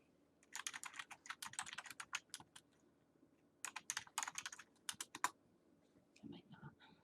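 Someone types on a computer keyboard in quick bursts of clicky keystrokes, separated by short pauses, fairly close but quiet.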